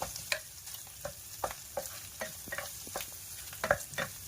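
Luncheon meat is stir fried in hot oil for fried rice, with a spatula scraping the pan in an irregular rhythm over a soft, steady sizzle, close up and without talk.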